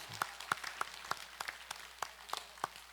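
Congregation at a Catholic retreat clapping in unison, a steady rhythm of sharp single claps about three per second, moderately loud in a reverberant hall.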